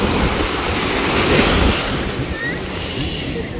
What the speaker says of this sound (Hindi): वेव्स काफ़ी ज़्यादा हाई हैं.